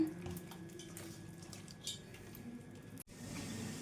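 Malpuri batter for a Guntur-style sweet mixed by hand in a bowl until smooth and lump-free: steady, soft wet squelching and slapping up close, broken by a brief silence near the end before resuming.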